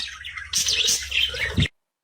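A pet budgerigar chirping up close, a quick run of bright twittering calls and chatter that stops abruptly, followed by silence.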